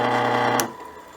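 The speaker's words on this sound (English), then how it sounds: "I apologize for the noise my lathe is making." Wood lathe spinning slowly for polishing, its motor tension left loose so it drones with a rough, buzzy rattle, loud and close, with a brief sharp tick before the noise eases off.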